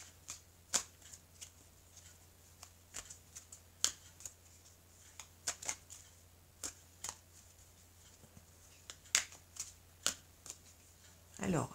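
Tarot cards being shuffled by hand in a quiet room, a steady series of soft, sharp riffling snaps spread unevenly over several seconds.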